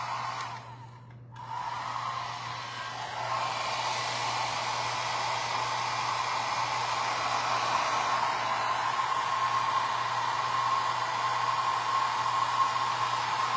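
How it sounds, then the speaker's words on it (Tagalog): A handheld blower hair dryer runs steadily with a broad, even whoosh, briefly muffled near the start as it is moved against hair, then holding constant and close for the rest of the clip; no one speaks. "May dala akong mas maliit na blower."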